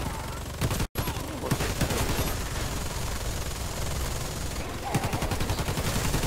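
Rapid, sustained enemy gunfire in Warface, a relentless fusillade of shots with a brief cut near the start, dense and loud throughout, with a voice occasionally speaking underneath.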